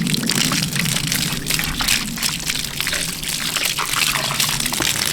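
Water pours steadily from a hose or can onto an empty garden bed to keep the soil damp, a continuous close gushing splash that lasts throughout without pause.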